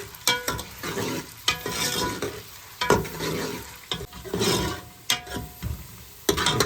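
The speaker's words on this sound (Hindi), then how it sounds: "तेल हमारा गर्म हो चुका था, इसमें प्याज डाली है हमने, तो इसको कर लेते हैं अभी फ्राई" Chopped onions frying in hot oil for a Lahori meat harissa, a crackling sizzle broken up by repeated scraping stir strokes at close range, with no voices.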